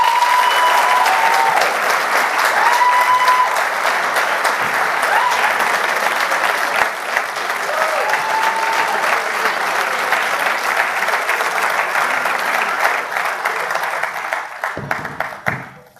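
Audience applause welcoming candidates onto a stage at a live show, steady dense clapping sustained loud for about fifteen seconds before tapering off at the end.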